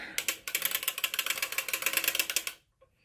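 A circular sock knitting machine is cranked to knit a cuff-down sock, making a fast, steady run of loud mechanical ratcheting clicks up close for a couple of seconds before stopping abruptly into silence.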